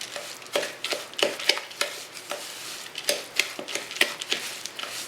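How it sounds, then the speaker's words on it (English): Stirring a crumbly pecan, flour and sugar topping for a sweet potato crunch in a bowl, a series of irregular scraping and clinking strokes close by, with no talk. "We're going to mix this all around and get it our crumbly topping."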